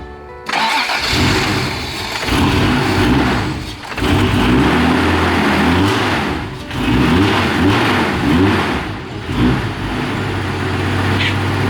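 A Nissan 240SX engine, cold after sitting unused for a long time, cranks, catches and revs in repeated surges, with dips between bursts as it struggles to stay running, loud and close with no voices.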